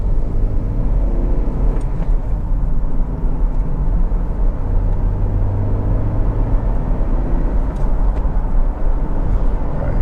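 Continuous low rumble of a Honda CR-V 2.0 i-VTEC on the road, heard from inside while getting up to speed, with steady engine and road noise throughout and no talking.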